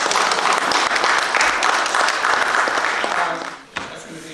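Applause from an audience at a Baltimore primary election candidates forum, a loud, sustained dense clatter of many hands that fades toward the end, then a single sharper knock.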